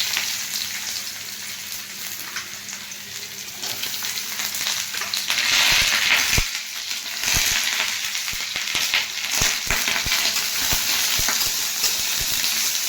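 Chopped onions fry in a hot pan of oil with tempering spices, giving a steady close sizzle and crackle with occasional stirring scrapes and clicks, and no talking.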